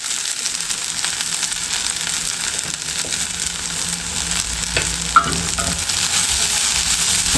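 Dried red chillies with salt sauté in a pan for a garlic chilli chutney, giving a steady, close hiss of sizzling oil broken by light scraping and stirring, with no voices.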